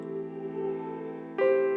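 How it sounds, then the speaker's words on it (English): A sustained keyboard chord with a gritty, buzzy lo-fi fuzz effect, followed by a fresh note entering near the end; no talking. "it gives it like a buzz or a fuzz effect."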